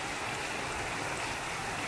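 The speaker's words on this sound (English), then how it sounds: "we have this long and straight waterfall coming down from that cliff there" A long, straight waterfall pours down a cliff in the Dolomites, heard as an even, unbroken hiss of rushing water with no other sounds.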